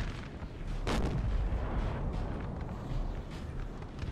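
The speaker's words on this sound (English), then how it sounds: "Some good artillery shots against them" Artillery fire booms across a Napoleonic battlefield in Napoleon Total War, with howitzer shells dropping into woodland. One loud blast lands about a second in, followed by continuous rumbling cannon fire and low battle din throughout.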